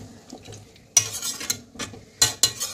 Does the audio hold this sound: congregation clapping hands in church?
no